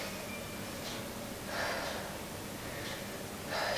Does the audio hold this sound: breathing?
yes